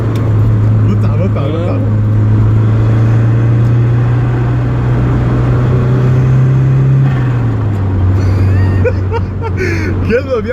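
A Mitsubishi Evo engine hums with a steady, loud drone that drops in pitch partway through, while people talk over it.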